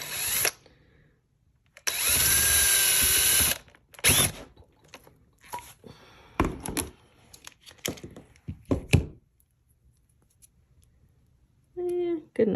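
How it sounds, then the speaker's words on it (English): A handheld power drill whirs steadily for about two seconds as it bores a hole through a bead for a beaded lanyard, then follows with shorter bursts and clicks, and a brief whir near the end. "So just hold the drill."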